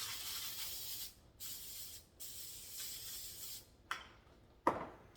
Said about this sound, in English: You wanna take your Luana cooking spray